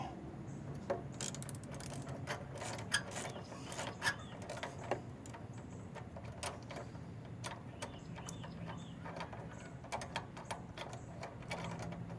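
A 6-point socket wrench ratchets while a pressure washer's fuel system is taken apart, making quick, faint, irregular clicks and ticks against a quiet workshop background.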